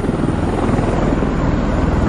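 Loud, steady engine roar with a deep rumbling drone, close by and continuous throughout, with no voices.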